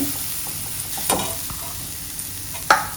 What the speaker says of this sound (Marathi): खोबरंही थोडंसं परतून घेते